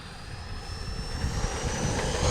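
An Arrows RC Marlin 64mm electric ducted-fan jet model flies overhead, its steady rising whine and rushing air holding continuously at moderate distance, with no talk.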